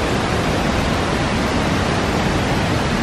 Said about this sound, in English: Can you hear the waterfall?